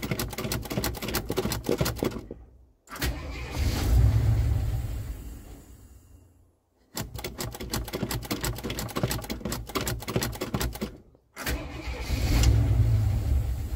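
A 1977 Jeep engine cold-starts repeatedly: rapid clattering cranking bursts catch into rough rumbling idle, die away, and crank again, three attempts with short silent gaps between.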